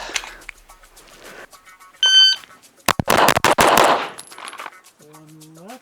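A ported TTI Combat Master pistol fired in a rapid string of loud, sharp shots, with electronic shot-timer beeps before and after and quiet background noise between.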